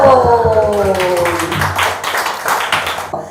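An audience at a seminar of a Korean civic movement claps in a brief burst of sharp, close hand claps, following a short vocal tone at the start.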